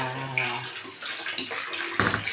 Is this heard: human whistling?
no